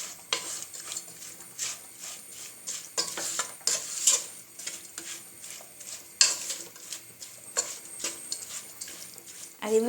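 Mola carplet fish curry being mixed with salt in a pan, a run of close, irregular stirring and scraping strokes with light clinks of utensil against metal, no talking.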